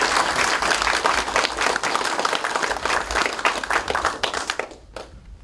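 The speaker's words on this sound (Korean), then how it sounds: "감사의 뜻을 담아 우리 추미애 대표님께 박수 부탁드리겠습니다." Sustained applause from a crowd at a Democratic Party national occupational representatives' meeting, dense steady clapping that fades out near the end.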